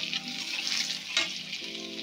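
Garlic frying in hot oil with dry red chillies and nigella seeds: close, crackling sizzle with bright spitting bursts and a sharper pop partway through, with no voices.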